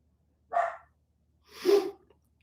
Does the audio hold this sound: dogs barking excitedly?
yes